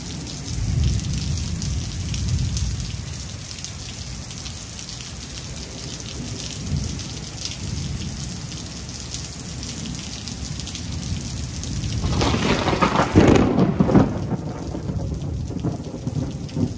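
Heavy rain pours steadily on surfaces while thunder rumbles low and deep, swelling into a loud, close crack and roll near the end, with no voices.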